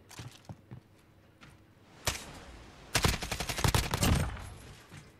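Video game gunfire: a few scattered single shots, then a loud close burst of rapid automatic fire rattling in quick succession before tapering off.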